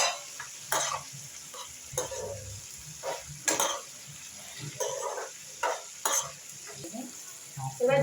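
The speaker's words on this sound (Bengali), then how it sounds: "এবার ডিমটা দিয়ে দিলাম, ডিমটা দিয়ে একটু কষিয়ে জল দিয়ে দেবো" Eggs stir-fried with tomato masala in a pan, heard as a faint ongoing sizzle broken by a series of spatula scrapes and taps at irregular intervals.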